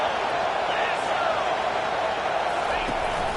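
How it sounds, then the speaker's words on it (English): Stadium crowd at a Florida State versus Penn State college football game: a dense, steady roar of many voices, loud and unbroken throughout, with an announcer talking over it. "It is getting loud as this crowd tries to help its defense"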